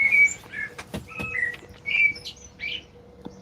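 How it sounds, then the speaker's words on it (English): Small birds chirp and tweet outdoors in short, bright calls scattered across a quiet background, fairly close and clear with no voices. "as I hear the bird chirping and whispering"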